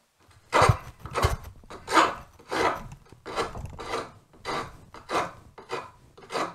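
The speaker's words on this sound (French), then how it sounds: "je prends le morceau de bois, posé dans l'étau, et on va regarder ce qui se passe quand je lime dans ce sens-là" Hand file rasping across a piece of wood clamped in a vise, about ten distinct back-and-forth strokes in an even rhythm, close and clear with no talk.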